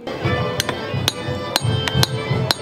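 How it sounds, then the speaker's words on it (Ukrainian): Blacksmiths strike red-hot iron with heavy hammers, about six sharp ringing metallic blows at an uneven rhythm, close and loud over a low background hum. "Далі розпечене залізо обробляють важкими молотками."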